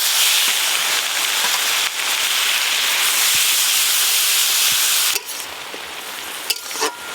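Grated onion sizzles loudly in hot oil with whole garam masala and bay leaves, a dense steady frying hiss that eases after about five seconds, with a few faint clinks and stirs over it.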